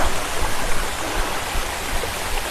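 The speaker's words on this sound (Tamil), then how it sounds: "இந்த அருவி சத்தம் தாங்க கீழே வரைக்கும் கேட்குது" Waterfall on a hill near Tiruvannamalai, a steady, loud broadband rush of falling water that fills the whole stretch without pause and with no voices over it.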